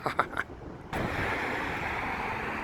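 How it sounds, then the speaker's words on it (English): Heavy wind buffeting the microphone, a loud steady roar that kicks in abruptly after a second of quieter rumbling and thumps. "Sorry about the wind in advance."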